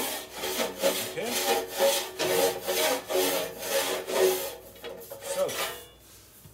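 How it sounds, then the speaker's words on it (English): A long-handled rasp scraping solder drips from inside a metal organ pipe, a loud rhythmic series of rough back-and-forth strokes, about eight in a row, fading to lighter rubbing at the end. "we heard that tremendous sound on the rasp? It was actually cutting."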